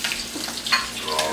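Chicken nuggets fry in a pan with a soft, continuous sizzle and light crackle, fairly quiet and steady, with no talking.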